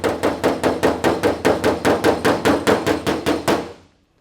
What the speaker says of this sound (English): start tapping down our high spots